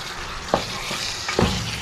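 Chicken sautéing in a pan for arroz caldo, a steady hiss of sizzling oil with a few louder scrapes and stirring strokes of a spoon against the pan, close and continuous.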